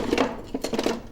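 Metal kitchen utensils clatter and clink together as someone rummages through them for a whisk. There are a few close, sharp jangles in about a second.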